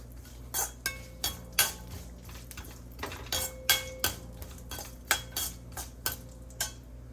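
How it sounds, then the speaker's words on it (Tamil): Cinnamon, cloves, fennel and cashews are sautéed in a pan, dominated by a spatula or spoon repeatedly scraping and clinking against the metal in an uneven rhythm over a soft background sizzle. "பட்டை, கிராம்பு, சோம்பு, முந்திரி எல்லாத்தையும் போட்டு நம்ம நல்லா வந்து வதக்கிக்கிறோங்க"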